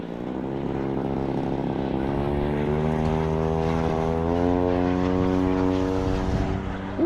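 A model P-40 Warhawk airplane powered by a DA 50 gas engine takes off at an RC flying field, its propeller drone loud and steady, the pitch climbing smoothly as it throttles up and speeds away.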